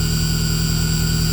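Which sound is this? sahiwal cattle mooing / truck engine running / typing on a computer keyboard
truck engine running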